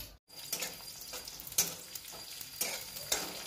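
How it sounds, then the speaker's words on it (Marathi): Grated coconut dry-roasting in a pan until browned, a steady close sizzle with spatula scrapes and stirs at intervals, no talking. "थोडंसं ब्राऊन होईपर्यंत भाजून घेते खोबरं"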